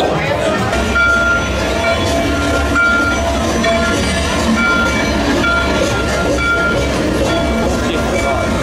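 A train ride at Disney's Hollywood Studios, with a steady loud rumble and rattle of the moving train car and a voice talking over it.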